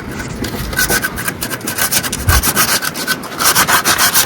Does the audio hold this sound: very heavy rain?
no